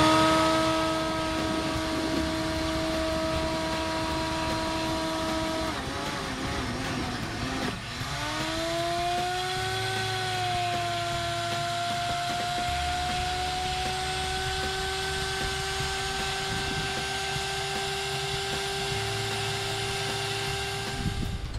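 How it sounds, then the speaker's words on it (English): A shop vac runs with a steady, loud whine while sucking water out of a Sea-Doo footwell, its pitch dropping and shifting partway through as the load changes, with no talking. "It took a little over a minute for the shop vac to get all 112 pounds"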